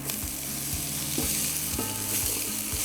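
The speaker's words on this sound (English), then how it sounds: "we're going to add half of a diced yellow onion" Half a diced yellow onion sizzles steadily in hot oil, with some background tones.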